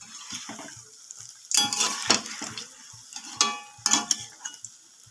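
Shrimp and cauliflower chops frying in oil in a pan, soft sizzling with intermittent louder spattering bursts and scraping as pieces are turned, no talk.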